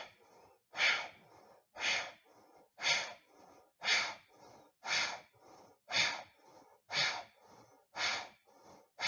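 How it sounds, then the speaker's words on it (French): A person doing a hatha yoga flow makes about ten short, forceful exhales through the nose, close and clear, each a sharp breathy burst evenly spaced about a second apart, with quiet inhales between. "Petite expire dynamique par le nez"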